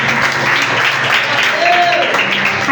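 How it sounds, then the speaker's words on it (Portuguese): A church congregation at a youth service applauding, dense steady clapping with voices mixed in and a person speaking over it. "Aplauda o Senhor Jesus."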